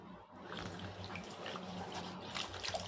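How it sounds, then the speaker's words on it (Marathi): Garden colocasia (taro) leaves being washed by hand in a vessel of water, with a steady splashing, running-water wash close by and no talk. "तर इथे मी पाणी घेतलेलं आहे आणि आता याला स्वच्छ धुवून घ्यायचं"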